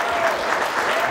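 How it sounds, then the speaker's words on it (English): A crowd clapping as the First Lady of Kenya is welcomed, a short dense patter of hands, fairly loud and close, with no pause in it. "you can clap"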